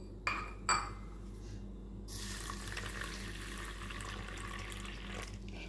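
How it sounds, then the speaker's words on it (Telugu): Water runs from a tap into a bowl of half a glass of quinoa for rinsing, a steady close splashing stream that starts after two brief clinks of glass or dishware. "దీంట్లో పోసేసుకొని నీళ్లు పోసుకోవాలి."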